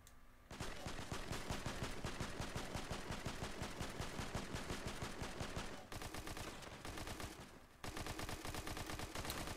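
Rapid, sustained automatic gunfire in the video game Fortnite, loud and dense with brief pauses near six and eight seconds, dominating the mix with no talk.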